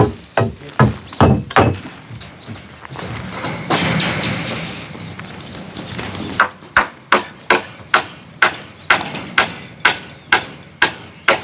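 Hammer blows on wood during house reconstruction work, sharp loud thuds in quick rhythmic bursts, with a brief pause of rustling and scraping between the volleys of strikes.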